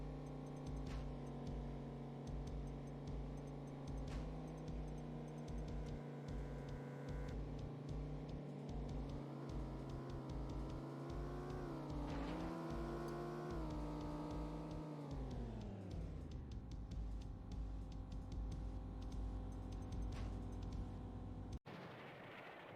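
Racing car engines from the video game Test Drive 4 rev and climb in pitch, then drop sharply, with repeated clunky thuds and a sudden cut near the end; quiet overall, no talking.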